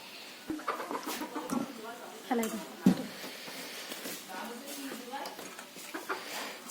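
Chickens cluck in short bursts while eating, with someone talking over them throughout and the clucks coming close and fairly loud between her words.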